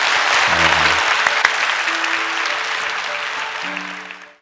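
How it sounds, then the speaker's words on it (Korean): Audience applause after a recorder performance at a church service, a loud, dense burst of clapping that fades out over a few seconds while a sustained musical tone sounds underneath. "우리 박수로 축복하겠습니다."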